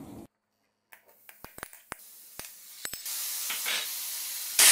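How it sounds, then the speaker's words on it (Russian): Grated carrot and onion hitting a hot pan, with silence first, then scattered sharp pops and crackles that swell into a loud, continuous hissing sizzle. "мы сейчас обжарим морковочку с луком."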